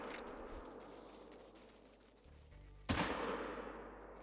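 A single sharp rifle shot at a European hare in theHunter: Call of the Wild cracks out loud near the end, following quiet outdoor ambience and a low rumble.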